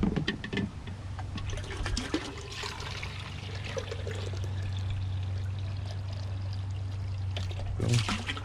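Rainwater pours into a measuring cup as a liter is measured out, a continuous close trickling stream over a low steady hum, with a few handling knocks at the start.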